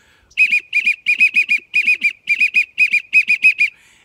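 Bursts of high, breathy whistled notes in quick groups of two to four, imitating a wigeon duck call on an adjustable whistle, clear and close with silence between groups.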